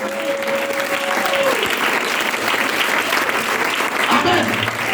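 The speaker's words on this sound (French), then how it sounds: "Donne une acclamation sérieuse au Seigneur." A church congregation in Koumassi applauds and cheers for the Lord, a full, loud wash of clapping and crowd voices that swells and continues for the whole stretch.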